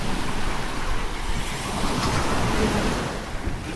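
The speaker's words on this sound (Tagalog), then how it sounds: "So hindi ganun kalakas yung alon ngayon." Steady rushing surf of ocean waves at Station 3, close and fairly loud, with wind buffeting the microphone and no voices.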